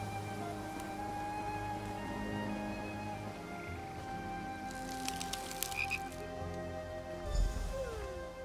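Frogs croak steadily throughout dockside frog races in a fantasy role-playing video game, a dense chorus over an ambient background with brief splashy and clattering effects near the end.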